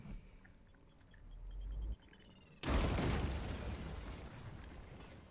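A grenade goes off in the Warhammer 40K Chaos Gate Daemon Hunter game: after a quiet stretch, one sudden loud broadband blast hits and lingers as a rumbling roar that slowly fades.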